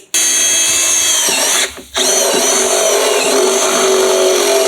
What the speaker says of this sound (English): Let's drill that.